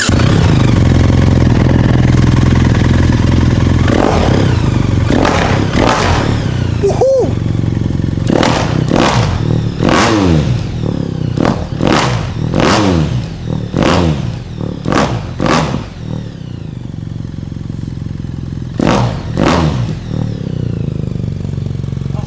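A custom, unregistered BMW R1300GSA motorcycle idles close by and then revs sharply again and again, each throttle blip rising and falling over a steady engine drone.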